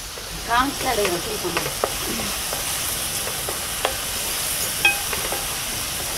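Onions sautéing in oil for brinjal curry, a steady hissing sizzle with scraping stirs and a few clinks of the spatula against the pan, close and fairly quiet.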